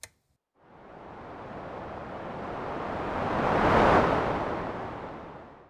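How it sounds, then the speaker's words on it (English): Pink noise running through an Elta Music Polyvox PF3 stereo filter enters after a brief silence as a soft, full hiss, slowly building toward a louder peak before tapering off, with nothing else over it. "and we have pink noise."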